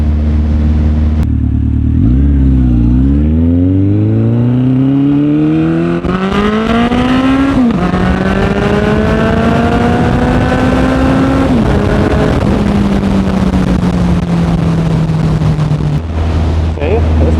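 A Honda CB1100 motorcycle revs and accelerates through rising gear pulls, its engine note climbing and dropping between shifts, loud and close against steady wind noise across the whole stretch.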